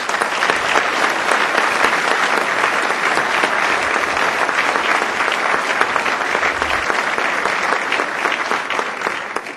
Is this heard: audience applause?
yes